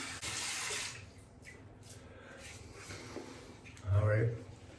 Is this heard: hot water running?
yes